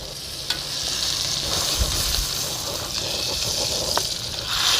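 A pan-fried T-bone steak sizzles loudly and steadily in a hot pan after being flipped, a constant close frying hiss with a few faint clinks and handling noises, no talking.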